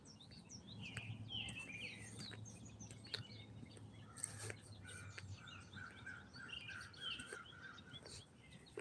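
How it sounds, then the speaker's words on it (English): Repeated high chirps from a black squirrel, mixed with bird-like calls and faint insect buzz in an outdoor setting, moderately quiet with a steady low hum underneath. "I thought those were always bird chirps, but squirrels chirp too."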